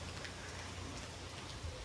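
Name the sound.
rain falling on a farm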